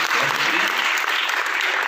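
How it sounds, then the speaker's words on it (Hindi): Steady applause from an audience at a poetry recital (mushaira) in Pathri fills the whole stretch, a dense even wash of clapping with no pauses. "शेर अच्छा लगा तो एक बार तालियां बजाकर इजाज़त देते"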